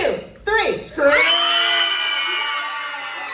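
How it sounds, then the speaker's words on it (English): A group of people screams together on cue at a Halloween Horror Nights event in Orlando, a loud sustained collective shriek that swells after a short burst and then holds steadily to the end. "everybody scream along"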